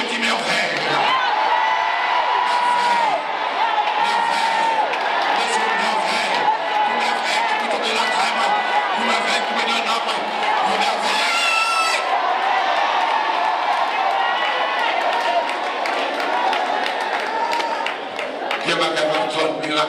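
Church congregation shouting and cheering loudly together throughout, a dense continuous crowd roar with whoops and raised voices during a lively worship service.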